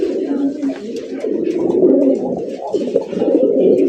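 Several pigeons coo continuously, their soft, throaty burbling calls overlapping close by.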